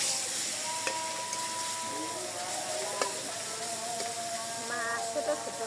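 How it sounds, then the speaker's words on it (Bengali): Fish frying in hot oil in a village kitchen, giving a steady bed of hissing sizzle with brief crackles and some faint background tones throughout. "তেল পরে গরম এসে মাছ দিয়ে দিই।"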